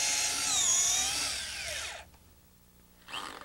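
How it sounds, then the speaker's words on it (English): A power drill bores pilot holes for deadbolt strike plate screws in a home door frame, a loud rising and falling whine for about two seconds, then a pause and a short second burst. "for that I have to drill some pilot holes"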